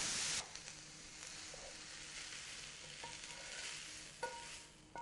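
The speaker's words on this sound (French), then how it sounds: "Et on mélange délicatement." Beef being stirred gently into a bolognese tomato sauce, a soft scraping, sloshing stir with a faint sizzle underneath and a couple of light utensil taps, close and fairly quiet with no talking.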